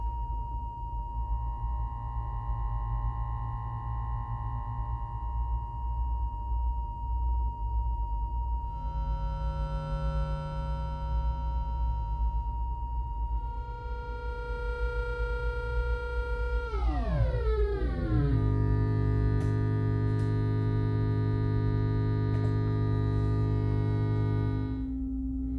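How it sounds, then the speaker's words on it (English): A steady triangle-wave tone from a Toppobrillo Multifilter 2 synthesizer drones and shifts pitch, with a downward swoop midway into a brighter, buzzier sustained tone. No voices. "this is a triangle wave"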